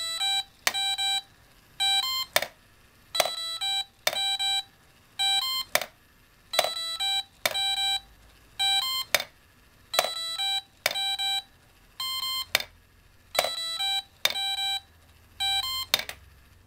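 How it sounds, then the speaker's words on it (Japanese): A LEGO Mindstorms EV3 music robot's motor strikes rhythmically, producing short ringing, pitched clanks in a steady repeating pattern about once per second, fairly quiet, with no talking. "このモーターを回してカンカン叩いてリズムよく音を出してくれます。"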